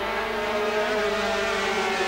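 250cc racing motorcycles scream past on the track at a 1988 Australian road racing championship round at Baskerville, a continuous high-pitched engine drone heard from trackside at a distance.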